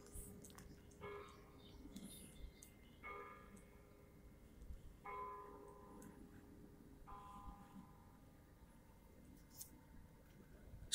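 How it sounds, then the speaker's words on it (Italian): Church bells striking five o'clock at Porto Varallo Pombia, four faint distant strokes about two seconds apart, each ringing out over a quiet outdoor background. "Suonano le campane delle 5."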